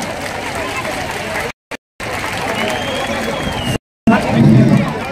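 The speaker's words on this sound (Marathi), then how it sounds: "जोरदार टाळी वाजवून आपण सगळ्यांनी अभिनंदन करा" A crowd at a Lok Sabha election campaign rally in Nashik applauds and cheers in dense, sustained clapping, broken by brief gaps and swelling louder at the end.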